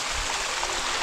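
A small stream flows over rocks near the top of a steep waterfall on Oahu, Hawaii, giving a steady close rushing wash with no breaks.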